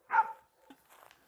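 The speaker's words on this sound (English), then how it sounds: "there's two dogs over there having a fight" A single sharp dog bark rings out, followed by faint scuffling and yips from dogs fighting nearby outdoors at a hilltop stone circle.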